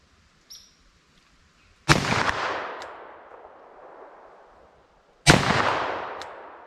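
Two loud revolver shots, 10mm or .44 Magnum from 4-inch barrels firing Hornady Custom ammunition, crack several seconds apart at an outdoor range, each with a long rolling echo tail.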